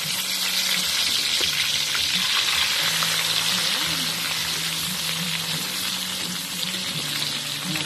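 Bagoong shrimp paste sautéing in a pan, a loud, steady close sizzle with faint low tones running beneath it and no voices.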